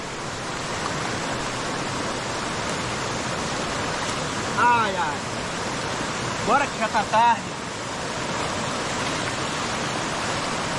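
A waterfall at Amelia Rodrigues in inland Bahia roars loud and constant, a broad steady rush close by, while people talk and call out briefly over it.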